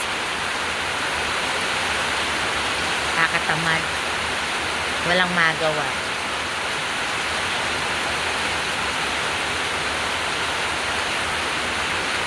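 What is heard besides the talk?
heavy rain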